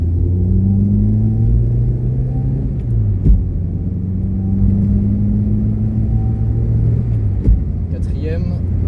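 Renault Super 5 GTR with a 1.2 engine pulls hard at full throttle, its steady rising engine note droning loud throughout with a brief dip around a gear change and road rumble underneath.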